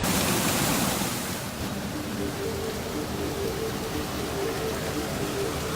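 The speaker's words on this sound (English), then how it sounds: "On up the trail, I began to encounter these waterfalls, each more beautiful than the last." A waterfall along a hiking trail gives a steady broadband rush of falling water, loud and close at first and then settling into an even roar, with no voices.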